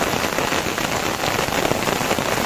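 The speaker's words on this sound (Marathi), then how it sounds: "पाऊस एकदम जोराचा पडतोय." Heavy rain pours onto Konkan paddy fields during rice planting. The downpour makes a dense, steady, loud patter with no pauses and no voices.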